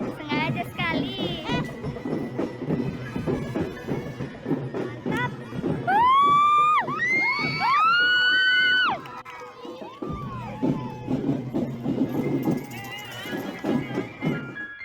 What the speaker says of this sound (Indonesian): rekaman ini memperlihatkan ratusan orang yang sedang melihat pertunjukan di sebuah acara festival